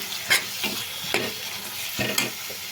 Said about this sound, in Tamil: இங்கே பாருங்கள் நம்ம இதை நல்லா வதக்கிக்கலாம்